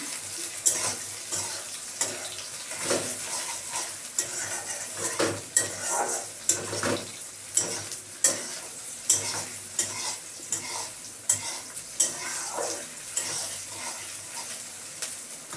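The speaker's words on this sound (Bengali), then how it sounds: "এবার কোচানো টমেটোগুলো দিয়ে দেবো।" Tomatoes sizzle and fry steadily in a pan with onion and garlic while a utensil stirs and scrapes against it in repeated strokes.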